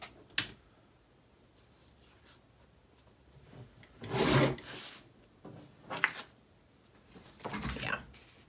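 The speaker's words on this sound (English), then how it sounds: "I'm gonna trim this one down just a little bit more as well" Scrapbooking paper being trimmed in a few quiet bursts: soft scraping, rasping strokes with light taps and rustles between, close and faint, with short gaps of near silence.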